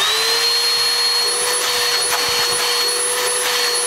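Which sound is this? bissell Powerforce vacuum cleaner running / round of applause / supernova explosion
bissell Powerforce vacuum cleaner running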